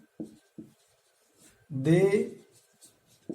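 Marker or chalk writing on a board during a lecture, a few short scratchy strokes around a brief spoken word from the lecturer.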